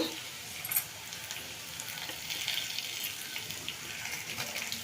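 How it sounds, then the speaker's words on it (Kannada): Coconut, garlic, ginger and chillies fry in a pan for a country chicken curry, giving a steady, soft, hissing sizzle with light crackles throughout. "ಇದೊಂದು ಸ್ವಲ್ಪ ಫ್ರೈ ಮಾಡ್ಕೊಳ್ಳೋಣ"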